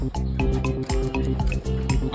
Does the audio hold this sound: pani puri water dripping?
yes